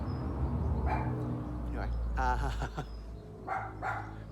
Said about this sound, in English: that dog was here the last time.